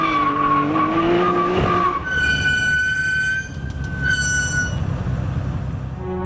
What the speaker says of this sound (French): La voiture hurle comme les démons de l'enfer.